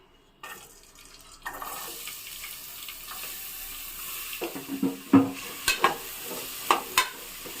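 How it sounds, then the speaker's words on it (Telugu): Chopped onion and meat pieces frying in a pan for goat head curry, a steady sizzle with intermittent clinks and scraping of stirring growing louder toward the end, close by with no talk. "ఇప్పుడు ముక్కల్ని కలర్ వచ్చేంత వరకు వేయించుకుందాము"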